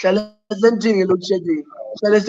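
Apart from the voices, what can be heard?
None of the usual background noises is heard.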